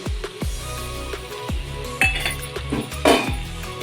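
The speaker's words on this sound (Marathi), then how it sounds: "झाकण काढून चांगली भाजी ही हलवून घेऊया." Metal clinks and scrapes of a spoon in a pan as a lid comes off and a mixed vegetable bhaji is stirred, with several sharp knocks spaced through the stretch, moderately loud with no voices.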